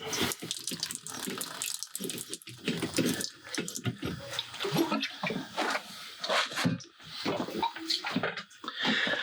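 Water drains and splashes from an opened copper pipe while an electric water heater is being replaced, a continuous, uneven gush close by that surges and dips over several seconds.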